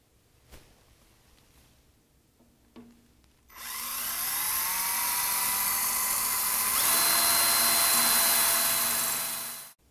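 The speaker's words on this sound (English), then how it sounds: "let's go back to the front now and drill those holes." An electric drill bores holes in the metal front panel of a lathe while a linear scale is being fitted. After a few faint clicks, a loud, steady high-pitched whir runs continuously for about six seconds, then stops.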